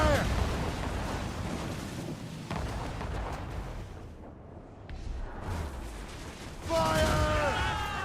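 Warship cannons fire in a naval battle in Assassin's Creed Rogue, with loud, rumbling volleys that rise and fall over several seconds. A voice shouts near the end.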